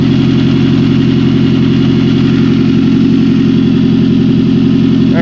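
A 1999 Toyota Celica GT with a 2.2 engine and five-speed manual runs with a bad exhaust leak and the exhaust manifold loosely bolted, giving a loud, steady idle with a rough, pulsing rasp close by.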